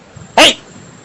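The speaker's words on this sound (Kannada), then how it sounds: "ನಮ್ಮ ಮನೆ ನಾಯಿ ಬಂದೈತ್ ನೋಡಿ ಸ್ವಾಮಿ" A house dog lets out one sharp, loud bark close by, short and sudden against a quiet background.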